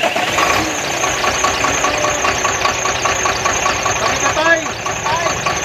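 Chenglong truck diesel engine restarted and left idling, a loud, continuous knocking rumble with a brief rise near the end while someone speaks over it.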